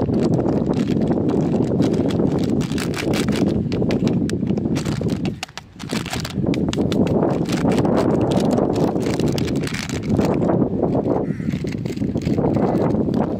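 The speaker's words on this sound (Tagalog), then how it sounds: "Sobrang hangin guys eh." Strong wind at Malagundi Point, a seaside spot, buffets the microphone in loud, continuous low rumbling gusts, briefly easing once before roaring back.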